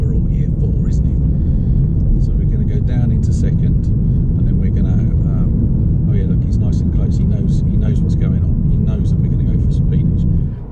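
A Toyota GR Yaris accelerating hard after a downshift into second gear, a loud, dense engine roar heard from inside the car that holds steady throughout, with excited talk over it.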